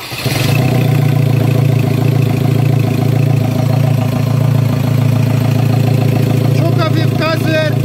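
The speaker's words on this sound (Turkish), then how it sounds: "Marşa basar basmaz turbo devreye giriyor." Ford Transit diesel engine cranking and catching, then idling steadily and loud up close with a constant low rumble and turbo whine, a few higher whistling turbo notes rising near the end.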